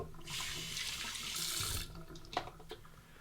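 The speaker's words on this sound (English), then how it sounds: "Rinse the face with cold water." Cold tap water runs steadily into a bathroom sink for over a second while a face is rinsed after a razor shave, then stops, leaving a few faint splashes and drips.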